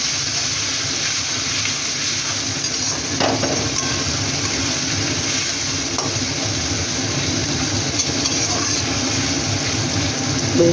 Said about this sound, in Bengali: এবার আমি পেঁয়াজগুলো দিয়ে বেরেস্তাটা ভেজে রাখবো